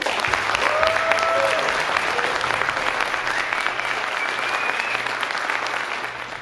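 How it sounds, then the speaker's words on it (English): Sustained audience applause at a wargaming convention tournament, dense steady clapping throughout with a few faint tonal sounds, like whistles or voices, riding over it. "I think we all need to give a huge round of applause and a massive debt of gratitude to Andrew"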